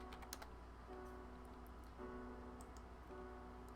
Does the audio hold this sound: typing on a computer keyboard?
yes